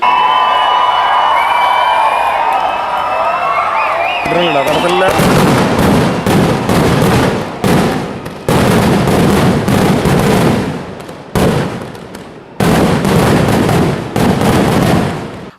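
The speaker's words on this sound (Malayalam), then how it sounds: "ഉത്രാളിപ്പാടത്ത് കരിമരുന്നുകൾ പൊട്ടിവിരിഞ്ഞപ്പോൾ ആർത്തു വിളിക്കുകയായിരുന്നു പൂരപ്രേമികൾ" Sample fireworks for Uthralikkavu Pooram go off in a loud, rapid barrage of bursting cracks and booms with brief gaps. A crowd's roar comes before the blasts begin.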